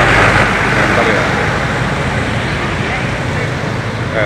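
A heavy tronton truck rolls slowly through flood water on the Kendal pantura road at night, a continuous engine and road rumble with a slight washing hiss that fades gently as it moves on.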